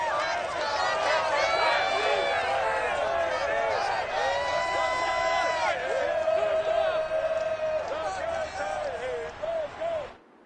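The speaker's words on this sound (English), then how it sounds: "This crowd here fired up for football" A stadium crowd in the Madden NFL 22 football game, Colts vs Titans, roars and whoops steadily throughout, a dense wash of cheering voices that fades near the end.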